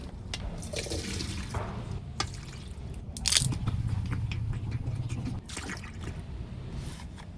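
Liquid from young coconut meat drains and splashes into a container, a soft continuous pour with a louder gush in the middle, accompanied by faint handling noises.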